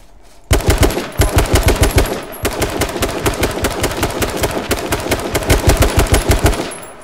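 Rapid automatic gunfire in the battle royale game H1Z1 King of the Kill, loud, close bursts of sharp evenly spaced shots with a short gap before the firing resumes, no talking.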